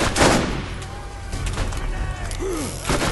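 A gun firing spiraling projectiles in Borderlands, repeated sharp shots with whooshing, warbling tails, several blasts spread across a few seconds amid game clatter.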